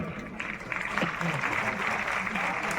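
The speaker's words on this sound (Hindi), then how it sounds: "बीच बीच में आपकी तालियां हल्की सी लगती हैं" Audience at a public event in Gorakhpur gives steady, moderate applause that fills the whole moment as a continuous wash of clapping, with some voices mixed in.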